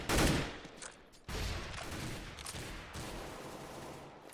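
Sustained gunfire from the video game Counter-Strike on the map Cache, with a loud burst at the start, a short break, then dense continuous shots through walls filling the rest.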